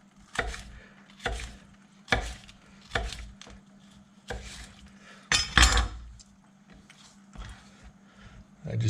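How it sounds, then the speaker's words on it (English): Knife chopping food on a cutting board in a home kitchen while making beef stir-fry, with about a dozen sharp, evenly spaced thuds and clicks close by, one longer clattering burst midway, and a low steady hum underneath. "I'm going to slice these."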